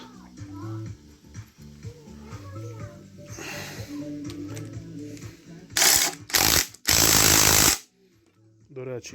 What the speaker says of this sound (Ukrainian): І болт закручую.